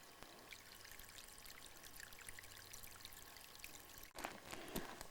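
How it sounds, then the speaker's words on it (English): Mountain spring water flows steadily beside a road, a continuous close splashing trickle like pouring into containers, with a brief gap and a few louder splashes near the end. "There's the spring itself."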